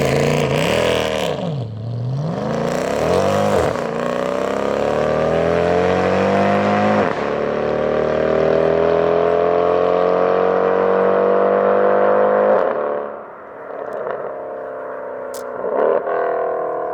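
Mercedes W204 C63 with a Valvetronic Designs full valved exhaust, loud and close: throttle blips, then a long rising acceleration with deep V8 roar, a lift-off and brief burbles and pops at the end.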